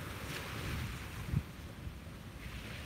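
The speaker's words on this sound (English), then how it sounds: "I love the sound of the waves." Ocean waves wash onto a beach at sunrise as a soft, distant, continuous surf hiss mixed with wind rumble on the microphone, with one brief low thump near the middle.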